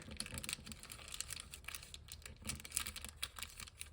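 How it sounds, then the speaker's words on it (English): A paper doily being folded into an envelope gives soft crinkling and papery rustles with faint light taps, quiet and close throughout. "all I'm going to do is take this part and fold it down."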